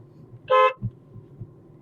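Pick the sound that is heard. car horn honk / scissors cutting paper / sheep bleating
car horn honk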